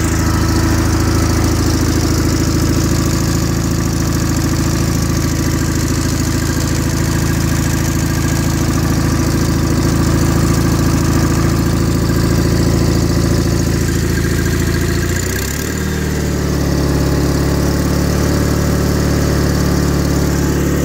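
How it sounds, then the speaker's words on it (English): A 1987 John Deere 316 lawn tractor engine idles steadily and close by, a loud, even mechanical chug that shifts to a slightly lower, altered pitch near the end. "I mean, this tractor runs like a top."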